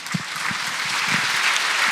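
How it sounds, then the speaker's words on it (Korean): Audience at a Korean War anniversary event and security rally applauds to welcome a guest speaker, steady dense clapping from a crowd, building slightly and continuing throughout. "큰 박수로 맞이해 주시면 고맙겠습니다."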